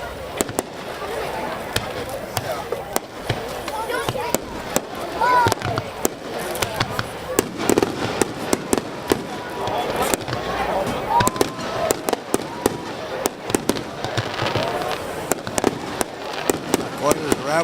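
Fireworks explode in an outdoor display at a GLASS 2010 show, many sharp pops and crackles going off irregularly at a steady pace over a busy crowd murmur, with people talking and cheering throughout.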